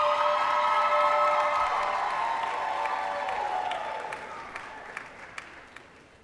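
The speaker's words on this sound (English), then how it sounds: "give your family members a round of applause" A graduation crowd cheers and applauds at a medical school winter commencement, loud at first and fading gradually, with a few isolated claps lingering at the end.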